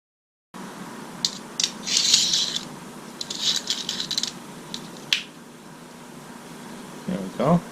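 Close metallic clicks and rattles come in short bursts as an Ettore quick release squeegee is tightened onto a stainless steel channel with pliers, with a pause between bursts and no talking.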